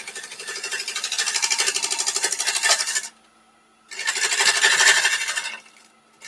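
A bowl gouge cuts wood on a lathe, making a loud, close, rasping scrape in two sustained bursts separated by a short quiet gap, with no talk over it.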